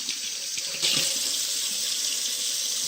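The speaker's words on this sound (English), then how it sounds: "Enter your hands into the water." Running sink water pours steadily as hands are pushed under it and wetted, a loud continuous close hiss with a brief surge as the hands enter the stream.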